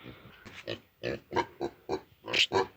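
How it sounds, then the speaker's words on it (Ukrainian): A pig oinks in a rapid series of about nine short grunts, close and fairly loud, on a farm where piglets are kept. "Не хрюкай."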